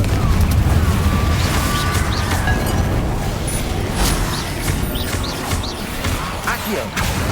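Repeated Confringo fire spell blasts in Hogwarts Legacy, a dense run of booming hits and crashes layered over continuous combat noise, with a voice calling out spell names between them.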